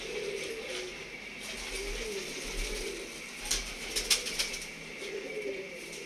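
Teddy pigeons cooing in a loft in Shad Bagh, Lahore, with soft, repeated low coos running throughout at moderate distance and a few brief sharper clicks or wing sounds near the middle.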